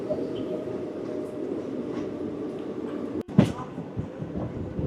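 An AC passenger train from Howrah to Nabadwip runs along the tracks with a steady low rumble, broken once by a sharp clack and a brief metallic squeal partway through.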